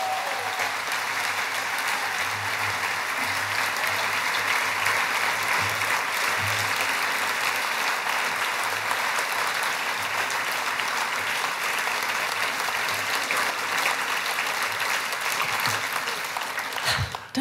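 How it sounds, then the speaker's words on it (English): An audience at a gala debate applauds the panel with long, sustained clapping from a large crowd, a dense even wash of hands at steady loudness that carries on for the full stretch before tailing off. "Applaud them all."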